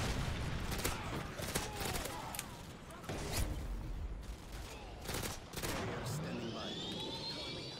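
G18 machine pistols fire in bursts in Modern Warfare 2, sharp rapid cracks coming in repeated volleys at moderate distance, with an aircraft whine rising near the end and voices talking in between.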